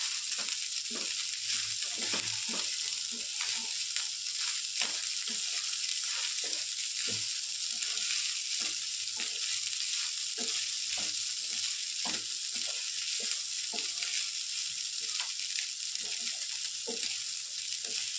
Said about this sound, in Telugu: ఉసిరికాయ ఫ్లేవర్ అంతా దీనికి పట్టేలాగా కలుపుకోవాలి.